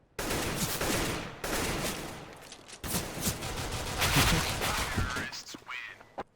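Sustained AK rifle fire in CS:GO rattles loud and close in long automatic bursts with brief gaps, nearly filling the whole stretch.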